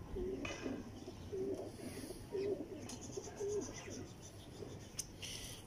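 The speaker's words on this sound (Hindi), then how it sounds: "ओरिजिनल स्कूल वाले कबूतर हैं माशाल्लाह।" Original school-breed pigeons coo softly and repeatedly in a steady rhythm, faint against a hissy background with a few scattered chirps.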